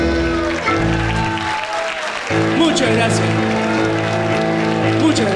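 Audience applause after a live tango song, steady clapping from a crowd mixed with the last sustained notes of the music, while someone briefly speaks a few words of thanks over it.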